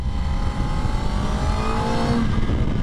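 A 2023 Kawasaki Ninja ZX-10R, a 1000 cc sport bike, accelerates on a road in Portugal, its engine tone climbing steadily under heavy wind roar, loud and close.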